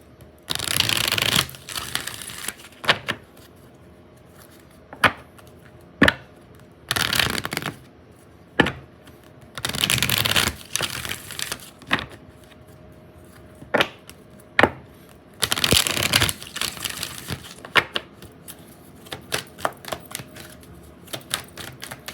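Two decks of oracle cards are shuffled nearby in repeated bursts of riffling flutter, broken up by sharp taps and clacks as cards are squared and set down.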